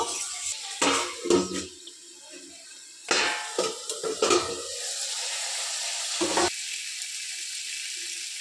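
Vegetables sizzle in a pan with turmeric, salt and spices while a spatula stirs them, giving bursts of scraping and clatter between quieter stretches of steady frying, close and fairly loud.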